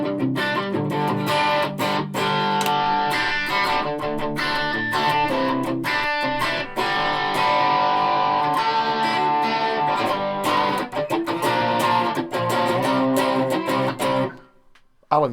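Electric guitar played through a Joyo British Sound distortion pedal, dense crunchy chords and riffs ringing loud and continuous before cutting off abruptly near the end.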